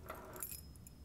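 Metal keys jingle and clink softly at close range as a magnet pulls them up, a quick burst of light rattling that fades in about a second.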